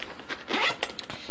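A zipper on the pouch of a Travelers Club Midtown Collection luggage tote is pulled once, a brief close rasping zip lasting about a second.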